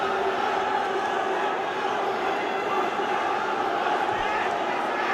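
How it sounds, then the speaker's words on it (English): Dense, steady crowd roar from the arena at an MFN mixed martial arts fight, supporters cheering throughout with no break, loud and continuous. "The crowd going electric here, supporting Chung Reng Koreng."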